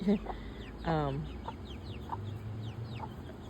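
Chickens cluck close by, one loud squawking call followed by softer scattered clucks and chirps against a quiet outdoor background.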